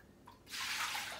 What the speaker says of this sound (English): I'm gonna go ahead and pour this extra water out because we're not gonna use this water.